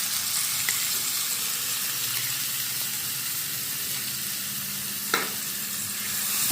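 Finely chopped onion frying in a pan over ginger and garlic, a steady sizzle running throughout with faint stirring scrapes and one sharper clink near the end; no talking.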